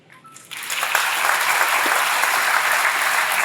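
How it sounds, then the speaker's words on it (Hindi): Applause from an audience at a ceremony honouring ex-servicemen and cadets in Uttar Pradesh, starting faint and swelling within half a second into a steady, sustained clapping that fills the room with no talk over it. "आपकी ताली से लगता है कि आप उसका गहरा मतलब समझ गए।"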